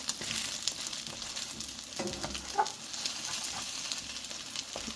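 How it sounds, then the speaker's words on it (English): A Monte Cristo sandwich fries in a hot skillet, giving off a steady, faint sizzle and crackle with occasional small pops and no talking. "We're going to fry it up for another 2 minutes"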